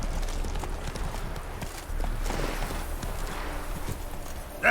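Roach the horse gallops in The Witcher 3, hooves thudding in a quick, steady rhythm over game ambience, moderately close and fairly quiet.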